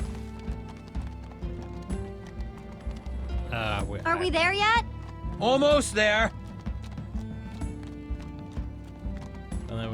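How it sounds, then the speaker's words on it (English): Steady horse hooves clip-clop in Minecraft Story Mode under music and game dialogue, with a couple of voiced lines breaking in midway. "I'm riding a horse."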